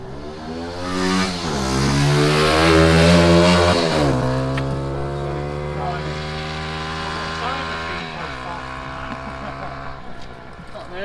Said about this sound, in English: Oh fuck me, we've got the motorbikes now.